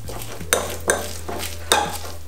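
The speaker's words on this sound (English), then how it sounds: "And then we just want to mix it well" Tuna, mayo, horseradish and black pepper being mixed in a bowl, with three distinct utensil scrapes and clinks against the dish over a low steady hum, close and clear.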